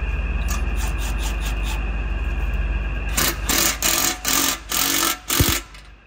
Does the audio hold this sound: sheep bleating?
no